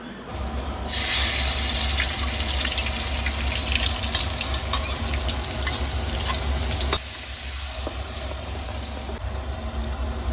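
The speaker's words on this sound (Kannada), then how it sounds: "ಎಣ್ಣೆ ಕಾದಿದೆ ಇವಾಗ ಇದ್ರೊಳಗಡೆ ನಾನು ಅವಾಗಲೇ ಜಜ್ಜಿಟ್ಕೊಂಡಿರೋ ಬೆಳ್ಳುಳ್ಳಿನ ಹಾಕೊತೀನಿ" Crushed garlic dropped into hot oil sizzles loudly and steadily, a dense continuous frying hiss that eases slightly toward the end, with no talking.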